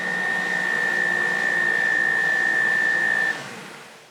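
A Bosch stand mixer kneads sourdough dinner roll dough with a steady, fairly loud motor whine and a constant high tone, then the drone drops and fades near the end.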